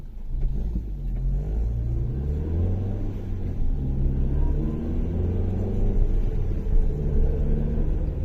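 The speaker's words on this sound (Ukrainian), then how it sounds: "Коробка чути як гуде в машині" Steady low engine rumble and drone of a car moving along, with a continuous mechanical hum from a whining gearbox underneath and no voices.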